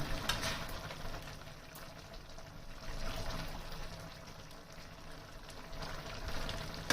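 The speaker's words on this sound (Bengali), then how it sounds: "এভাবে কড়াইতে ফুটতে দিয়ে দিলাম।" Jackfruit and prawn curry simmers in a wok with garam masala added, giving a faint, steady bubbling and watery burble that continues without talk.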